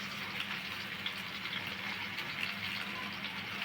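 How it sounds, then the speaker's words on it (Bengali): Mango pieces for a jaggery mango pickle sizzling in a pan on the stove, a soft, steady hiss and crackle of frying, faint and continuous, with no voices. "আমগুলো দেওয়ার পর একটু হালকা হাতে ভেজে নেব।"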